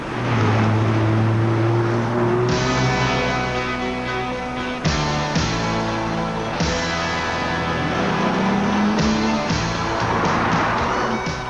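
A Ford Probe's 2.5-litre, 24-valve V6 engine with 165 horsepower drones steadily while driving, with the pitch rising and dropping through gear changes, heard from inside the car.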